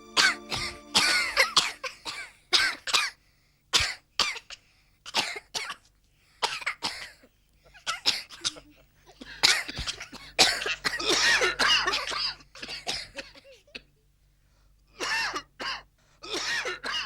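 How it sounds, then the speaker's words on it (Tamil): Children cough again and again, the smoke from a cigarette setting them off. The coughs come as loud, close, harsh bursts, some in quick clusters and some alone, with short quiet gaps between them. "நீங்க விடுற இந்த புகையினால பாவம் அந்த குழந்தைகளும் இருமுது பாருங்க"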